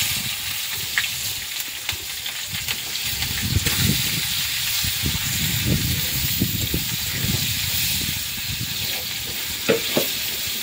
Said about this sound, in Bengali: এখন আমি পেঁয়াজ কুচিটা দিয়ে দেব।